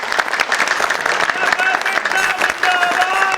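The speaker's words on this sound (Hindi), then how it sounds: "एक जोरदार तालियां।" An audience at an outdoor public event in Mirzapur breaks into loud, steady applause that stays strong throughout, with a voice from the stage audible over the clapping.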